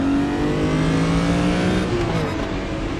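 The BMW M1 Procar's engine in the RaceRoom racing game revs hard at Interlagos, a loud sustained howl that drops briefly with a gear shift and then climbs again.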